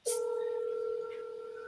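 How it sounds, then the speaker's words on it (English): A telephone sounds a single sustained steady tone, loud and close, starting abruptly and holding for about a second and a half before fading slightly. "She's trying to call somebody now."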